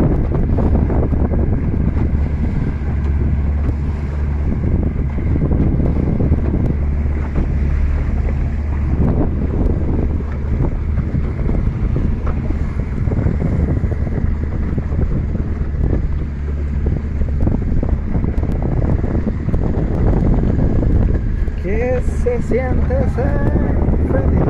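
Wind buffets the microphone aboard a small fishing boat out at sea, a continuous rough, gusty roar with a low rumble underneath and brief sounds near the end.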